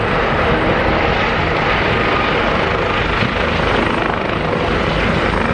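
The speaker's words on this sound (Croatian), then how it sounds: "izletanje helikoptera H-145 kojim se vrši evakuacija" An H145 helicopter taking off for an evacuation in a military exercise roars loudly and steadily, its dense engine and rotor noise filling the whole stretch without a break.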